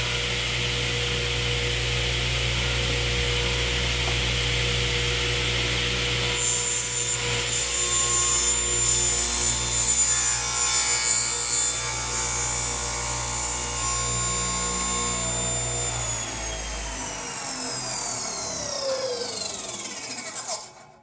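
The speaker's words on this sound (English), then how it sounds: "Initially, you are using the fence to guide the piece of timber into the blade." A table saw runs with a steady whine while a piece of timber is fed along the fence into the blade, the cut adding a louder grinding stretch before the motor spins down at the end.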